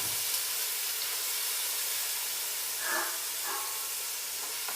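Tomatoes sizzle in a hot pan of oil with turmeric and garam masala for a stuffed chicken dish, a steady close frying hiss throughout with a few brief louder spits.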